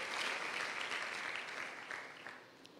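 A church congregation claps together: dense, sustained applause that fades slightly toward the end, heard from a moderate distance.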